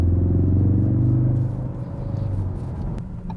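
A 2016 Ford Focus RS gives off a deep exhaust rumble and engine drone that is steady at first, then eases off and settles lower, heard from close by.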